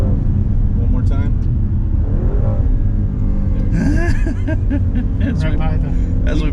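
Maserati Levante Trofeo SUV accelerating hard from inside the cabin, a loud steady engine roar with a rising rev as it picks up speed, while occupants talk and exclaim over it.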